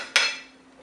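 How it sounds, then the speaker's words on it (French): A Cookeo Extra Crisp lid is set down onto the cooker bowl in a single sharp clunk that rings briefly and fades, with a steady faint hum underneath and no talking. "je vais le placer sur la cuve du Cookéo"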